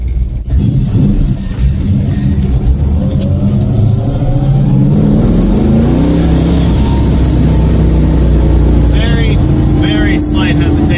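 A 1971 Dodge Demon with a 340 V8 and Edelbrock AVS carburetor revs and accelerates loudly on the road, its engine note rising steadily through the gears as someone talks over it throughout.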